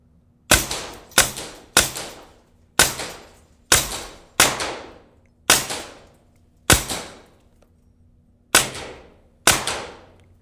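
A Taipan Slash rifle fires eleven loud, sharp shots in a quick but uneven string at a rack of steel targets outdoors, each crack trailing a short ringing decay, no voices between.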